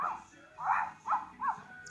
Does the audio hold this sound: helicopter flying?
no